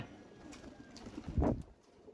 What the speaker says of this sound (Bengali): এই যে কবুতরটা আমার বসলো